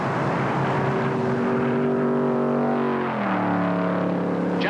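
Stock cars howl past in the 1960 Daytona 500, a dense pack of V8 engines roaring loudly and continuously, their pitches sliding downward as the cars sweep by in a long, blended stream.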